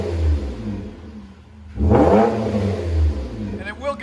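A 2011 Nissan Altima SR with a 3.5L V6 and Magnaflow Magnapack dual exhaust revs up close and loud, a steady idle rumble swelling into a strong rev midway and holding, with faint talk nearby.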